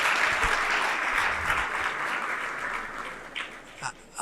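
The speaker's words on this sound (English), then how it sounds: "let's get one more round of applause for Carlos," Applause rises for a performer at a 50th anniversary gala dinner and celebration. It is a dense, sustained wash of many hands clapping at once and fades slightly toward the end.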